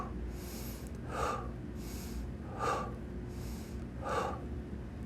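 Rhythmic, audible breathing during a seated hip flexor exercise: three slow breath cycles of airy inhales and exhales, close and clear over steady background hiss.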